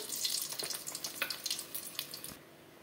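Bay leaves and three dried red chillies hit hot oil for a tempering, giving a bright crackling sizzle with scattered pops that fades out near the end.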